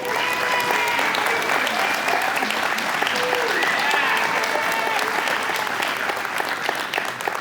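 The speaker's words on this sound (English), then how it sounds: "we all applaud and thank you" Warm audience applause at an evening event with Richard DeBernardis, steady, full clapping that holds for the whole stretch, with a few voices mixed in.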